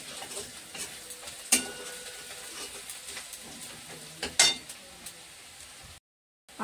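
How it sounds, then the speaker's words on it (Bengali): Curry masala fries and is stirred in a pan, a soft close sizzle broken by a couple of sharp scraping strokes, then a brief silence at the end. "ভালো করে, খুব ভালো করে ভেজে নেব।"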